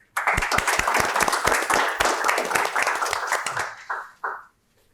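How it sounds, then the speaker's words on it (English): Audience applause at an indoor tech meetup venue: dense, sustained clapping from a crowd for about four seconds, trailing off into a couple of short final bursts before silence. "Let's give them a round of applause."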